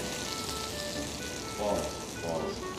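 An omelette fries in a lightly oiled pan, cooked on both sides, giving a steady close sizzle with slight swells in crackle, like light rain on a hot surface.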